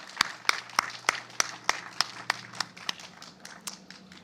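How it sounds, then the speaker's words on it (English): Applause for students at a middle school groundbreaking ceremony, a sparse set of individual claps in a loose, steady rhythm, roughly a dozen sharp hand strikes heard fairly close. "I think we should have another round of applause for those students."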